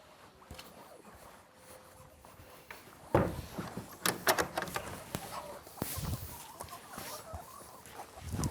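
Chickens in a farm coop cluck amid clattering and door-like knocks, the activity getting noticeably louder and busier after the first few quiet seconds.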